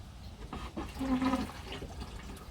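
Water runs and splashes into a bucket in a short, steady gush, close by, with a rising hollow tone as it fills.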